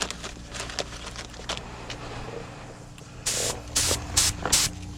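Spray gun laying a light first coat of clear on a car quarter panel during a spot repair, several short hissing bursts near the end over a faint background hum.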